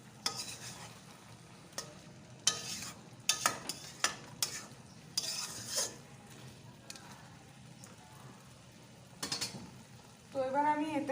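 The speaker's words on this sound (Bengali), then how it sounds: "এখন একটু ভালো করে নাড়িয়ে চাড়িয়ে নিই" Shredded cabbage is stirred in a pan as it cooks down, with scattered scraping strokes of varying strength over a faint sizzle, and a voice is briefly heard.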